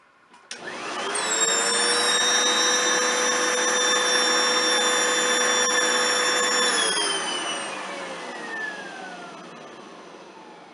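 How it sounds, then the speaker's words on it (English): A Rainbow vacuum cleaner runs loud and steady with its hose end blocked, a strained whine holding level before the pitch drops and the motor winds down near the end. "if you take the end of the hose and you block it"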